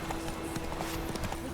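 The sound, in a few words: horse galloping in The Witcher 3 video game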